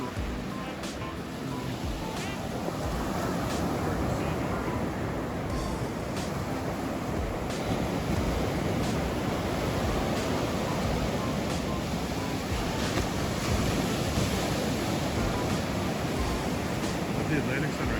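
Atlantic Ocean surf at Surfside Beach at sunrise, a steady broad wash of waves rolling in, with a faint voice heard briefly over it.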